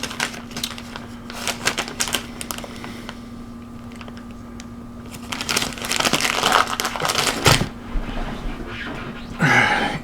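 Plastic packs of dried beef are handled and torn open. Crinkling and sharp clicking clatter come in irregular bursts, with a louder crackling rip near the end, close by over a faint steady hum.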